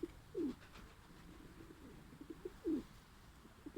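A 19-year-old pigeon coos twice in soft, low, throaty phrases with short pauses between them, fairly close against a quiet background.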